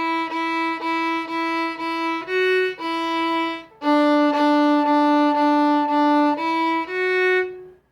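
A violin plays two measures of the beginner tune Lightly Row from a lesson book, a steady string of bowed notes with short repeated tones and a few held ones, clear and close, with no talking.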